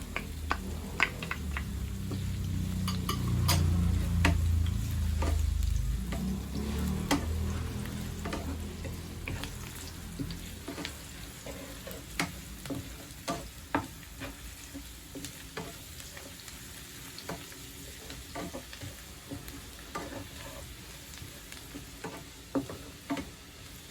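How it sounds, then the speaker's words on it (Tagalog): Garlic sautéing in a pan for sweet and sour fish, a steady sizzle with scraping stir strokes and small ticking clinks of the utensil, loudest early then settling into quieter stirring, with no voices. "Gisa-gisa lang hanggang sa medyo pumula."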